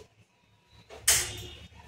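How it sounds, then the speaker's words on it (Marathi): A gas cylinder regulator snaps into place on a home kitchen cylinder: one sharp, close click with a brief rattle after it, set against quiet room noise. "कट दिशा आवाज आला की आपलं सिलेंडर बसले समजायचं"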